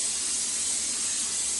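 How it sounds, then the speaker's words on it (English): Aerosol can of non-stick cooking spray misted into a 13x9 baking dish, a steady close hiss lasting the whole moment, alone with no talking. "take a 13x9 baking dish and spray it with non-stick cooking spray"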